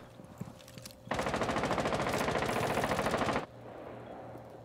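Sustained automatic MX4 gunfire in a video game, a loud rapid burst of evenly spaced shots lasting about two seconds, with quieter game ambience before and after.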